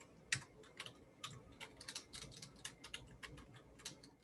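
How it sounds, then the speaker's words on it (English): Quiet, irregular tapping of keys on a computer keyboard while entering names in a CentOS 7 terminal, a steady run of close, light clicks with no talking. "I'm typing names in there"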